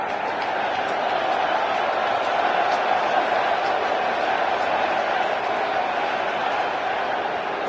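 A loud baseball crowd at Citi Field during a Padres at Mets playoff game sends a dense, continuous roar of voices through the stadium, steady and unbroken throughout.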